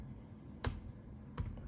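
Two quick, faint computer keyboard keystrokes sound about a second apart over a low background hum as a command is typed.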